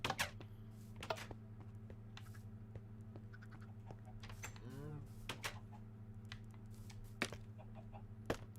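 A chicken in the Minecraft video game clucks softly mid-clip beneath a busy stream of clicks, taps and block-placing sounds.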